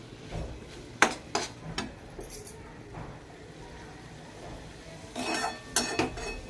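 Minced meat (keema) being stirred and fried in a pan, with a spoon scraping and clinking against the metal in a few sharp bursts over a low background sizzle, heard fairly close with no talking.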